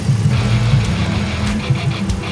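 A 2015 RAM 1500 Sport crew cab pickup with a 5.7 liter V8 HEMI idles nearby, a steady low rumbling hum with no talk over it.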